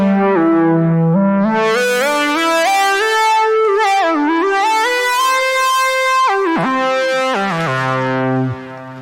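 A Hive 2 software synth driven by an Akai EWI USB wind controller plays a smooth, legato lead line with gliding pitch bends and breath-shaped swells, bright and sustained with no pauses.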